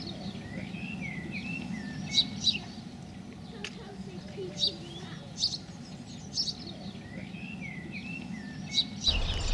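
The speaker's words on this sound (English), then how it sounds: "and the bird song." Birds sing outdoors in the countryside beside a stream, with repeated short chirps and calls rising over a steady low background rumble, moderately distant and fairly soft.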